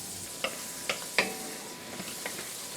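Two tablespoons of butter hit a hot cast iron pan, giving a quiet hiss with a few sharp crackling pops, three stronger ones early and two softer ones later, and no talk.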